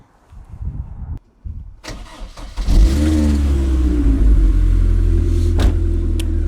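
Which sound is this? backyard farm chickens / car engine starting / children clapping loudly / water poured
car engine starting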